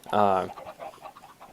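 Chickens on a video game farm: a loud, close, raspy squawk opens, followed by a run of softer clucks at irregular intervals, with a voice talking over part of it.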